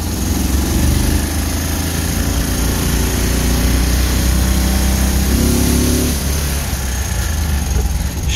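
An Isetta microcar's small engine drones steadily on a first test drive, a buzzy, loud running note with slight pitch shifts as the car moves.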